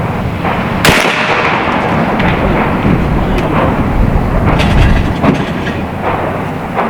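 An AEA Zeus .72 caliber air rifle fires once, a sharp loud crack at a concrete house foundation block, over a steady rush of outdoor noise with faint knocks afterward.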